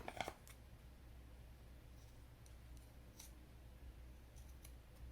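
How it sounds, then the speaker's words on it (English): Scissors snip a small nib off a baby moccasin: one quick, faint cut near the start, then quiet room hush with a few soft handling ticks. "we're going to cut off this little nib right here"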